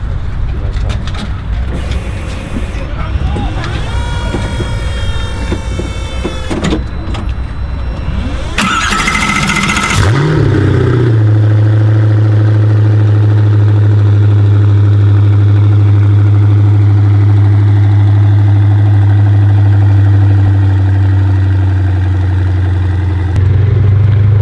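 A 2016 Koenigsegg Agera RS engine starts with a sharp rising rev, then settles into a loud, steady, deep idle that rumbles on without pause.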